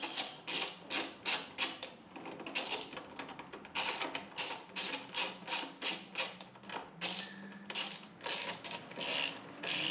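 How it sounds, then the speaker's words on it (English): A ratchet tightening bolts on a Kawasaki Ninja 400 motorcycle during a coolant change, with rapid bursts of close, clicking pawl strokes repeating steadily with brief pauses between them. "Tighten the bolts."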